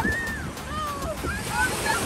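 Sea waves surging and breaking at a beach: a loud, rushing wash of surf and wind buffeting the microphone, with excited shouting voices over the water.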